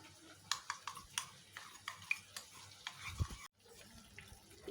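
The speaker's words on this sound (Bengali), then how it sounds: "এখানে আমি জলের মধ্যে 2 চামচ কর্নফ্লাওয়ার গুলে নিচ্ছি।" A spoon stirs two spoonfuls of cornflour into water in a bowl, giving faint, close clinks and light scraping taps at an irregular pace, with no talking.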